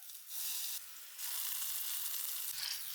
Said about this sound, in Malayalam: വെളിച്ചെണ്ണയിൽ ചെറിയ ഉള്ളി അത് നമുക്ക് വഴറ്റി ചേർക്കാം